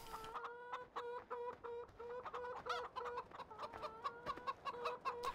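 Chickens near a coop in Farming Simulator 15 cluck steadily in short repeated bursts, close and clear, with no talk over them.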